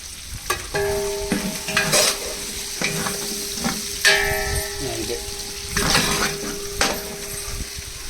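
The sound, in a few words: green chilies and curry leaves frying in oil, stirred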